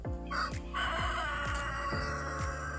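Loud, close poultry calls with repeated harmonic cries, like a rooster crowing amid other fowl, with no talk.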